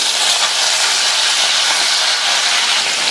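Drained eggplant pieces tipped into hot oil in a pan, giving a loud, continuous broad sizzle that holds steady throughout.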